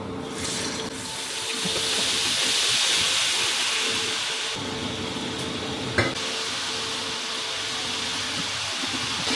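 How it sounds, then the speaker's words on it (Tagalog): Steady hissing sizzle of salmon frying in a pan, a continuous bright crackle with a brief clink partway through. "isa-isahin ko talaga to siyang pag-prito"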